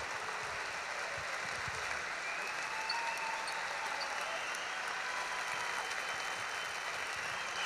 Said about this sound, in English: giving one more round of applause for 6 seniors who will forever hold a place in the Purdue basketball family